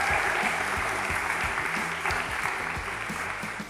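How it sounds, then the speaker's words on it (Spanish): A church congregation applauds during a Spanish-language service, sustained dense clapping that fades slightly toward the end, with faint voices underneath. "denle un fuerte aplauso a las personas que vinieron hoy por primera vez."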